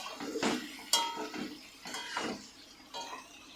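Chicken being stirred in a pan for rezala over a low flame: intermittent scraping and clinking of a utensil against the pan, several separate strokes, close by.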